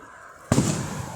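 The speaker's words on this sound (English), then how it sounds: "we do see some fireworks down there" Fireworks going off at a distance, heard after a brief quiet as a sudden burst followed by a sustained crackling, rumbling wash of sound.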